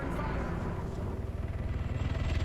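A Mi-8 helicopter in a strategy video game, its rotor throbbing in a steady fast pulse under a broad engine roar that grows louder and more defined toward the end.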